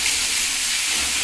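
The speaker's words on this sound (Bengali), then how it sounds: "এবার টমেটোটা দিয়ে দিই, তাহলে এগুলো যাতে একটু হালকা ফ্রাই হয়" Chopped tomatoes fry lightly in a pan, giving a steady, close hiss and sizzle that fills the short moment without a break, and no voices can be heard over it.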